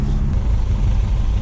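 An old junkyard Datsun with a formerly seized motor, driven on the road, gives a steady loud engine and road rumble that runs unbroken and close throughout the short stretch.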